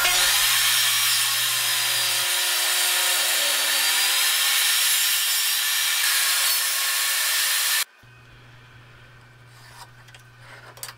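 A power saw cuts through a guanacaste wood bowl blank, a loud, steady high-pitched whine and rasp of blade in hardwood lasting about eight seconds before the cut ends and the motor drops to a quieter hum.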